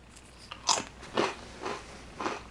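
Crunchy crackers from an Italian military ration pack are bitten and chewed up close, giving four distinct crisp crunches spaced roughly half a second apart with no talking.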